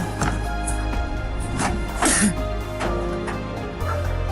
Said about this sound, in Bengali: আমি দুঃখিত, আমি একটু অসুস্থ, সেজন্য আসলে কাশি হচ্ছে